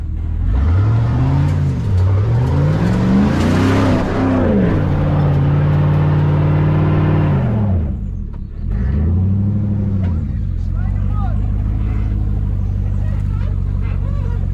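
A GMC Denali truck stuck off-road revs its engine hard, the loud drone rising and falling in long sweeping surges as the tires spin, then easing briefly before another strong rev that settles into a steady roar.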